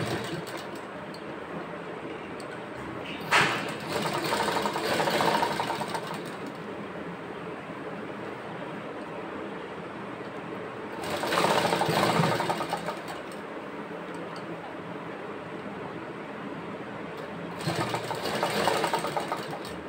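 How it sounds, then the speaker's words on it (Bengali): A sewing machine stitches in three separate bursts, each a few seconds of rapid mechanical whirring and knocking close by, with quiet pauses of low hum in between. "আমি তোমাদের জাস্ট মেশিন সেলাই দেখিয়ে দিচ্ছি"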